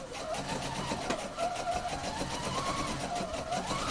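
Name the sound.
sewing machine stitching piping cord into bias strip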